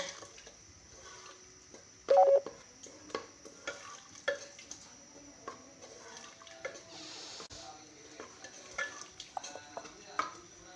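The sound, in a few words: stirring eggplant sabzi in a pan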